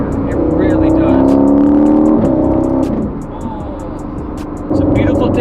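A 2019 Aston Martin Vantage with a turbocharged engine of over 500 horsepower drives, its engine note rising under acceleration, dipping as the throttle eases, then building again, heard from inside the cabin with ticking clicks.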